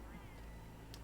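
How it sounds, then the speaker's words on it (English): Small cats in the video game Monster Hunter World give a brief, soft meow over a steady background of game music and ambience. "Oh, look at the cute kitties."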